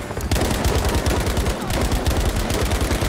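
Automatic gunfire in the Battlefield V video game: a loud, continuous stream of rapid shots close up, sustained for a few seconds with almost no pause.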